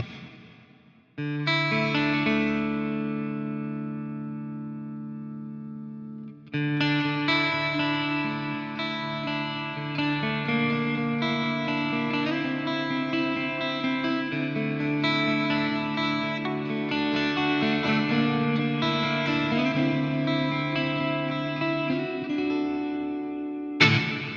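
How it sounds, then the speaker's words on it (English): Clean electric guitar chords ring out through an amp with lush reverb, notes sustaining and blending into a long, shimmering tail. "That's a lovely reverb, but just a clean amp sounds great."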